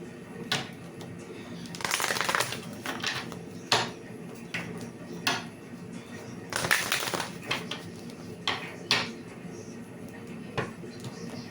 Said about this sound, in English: Let me go shuffle these cards